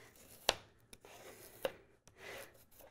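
A peeler shaves thin ribbons from asparagus, zucchini and carrot for a salad, making a few quiet, sharp scraping strokes separated by short pauses, close up and without talk.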